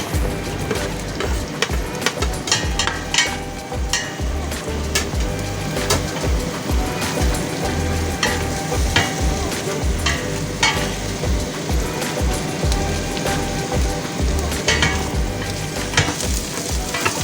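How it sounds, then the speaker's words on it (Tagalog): Garlic and onion sauté in oil in a pot as the first step of an oxtail borscht, giving a steady, close sizzle with repeated stirring scrapes throughout and no talking. "Saute natin yung garlic. Yung onion."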